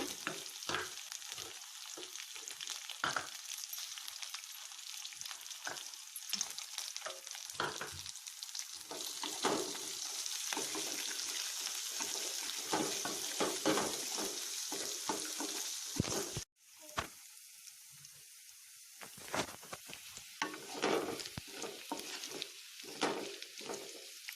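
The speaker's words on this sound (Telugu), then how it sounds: "అందులోకి మనం నానబెట్టుకొని ఉంచుకున్న శనగపప్పు వేయాలి" Soaked chana dal frying in oil with curry leaves and dried red chillies for upma, a continuous bright sizzle and crackle with intermittent stirring, briefly cut off midway then resuming.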